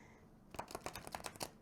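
Odd-shaped Lenormand cards being shuffled by hand, a quick, quiet burst of crisp riffling clicks lasting about a second after a short silence.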